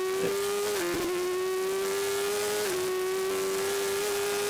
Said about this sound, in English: That's it running out of fuel. So even when we come out of here, it just kind of keeps dying and going a little bit